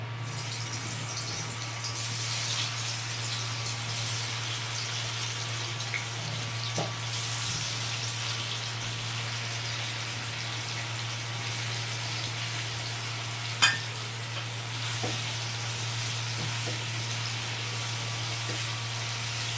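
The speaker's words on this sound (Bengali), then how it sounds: "দিয়ে পনিরগুলোকে আমি ভেজে নেব বেশিক্ষণ ধরে ভাজবো না" Paneer pieces fry in oil with a steady, even hiss over a constant low hum, closely heard, with a single sharp click partway through.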